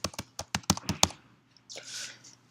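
Keys typed on a computer keyboard while entering a student ID: a quick burst of about half a dozen close, sharp clicks, then a short pause and a softer rustling noise.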